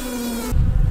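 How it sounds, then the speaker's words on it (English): Dense honey bee buzz from a freshly opened hive crowded with bees, a steady insect drone for the first half that turns into low, rumbling handling noise near the hive. "Geez, still jam-packed with bees."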